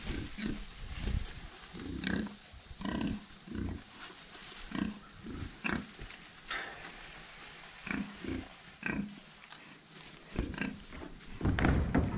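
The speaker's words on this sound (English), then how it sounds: "Well, there's the pigs." Pigs held in a makeshift pen of cow panels beside a stock trailer after a sale barn purchase. Close grunts, squeals and snorts come in repeated bursts with brief pauses, growing louder near the end.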